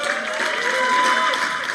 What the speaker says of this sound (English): Give Martin a big round of applause.